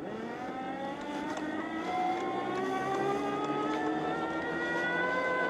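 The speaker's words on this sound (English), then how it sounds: "Initially, I didn't like the way the self-propelled takes quite a while to actually get up to speed" Ego commercial electric mower's self-propel drive speeding up, a steady whirring whine with tones sliding upward as it gains speed, fairly loud and close, with no talking.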